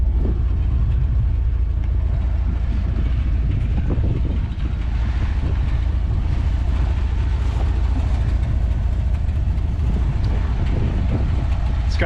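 Exhaust note of a 1990 Dodge Power Ram truck with a glass pack muffler and 33x10.5x15 Super Swamper TSL tires, a steady loud low rumble throughout with no clear revs.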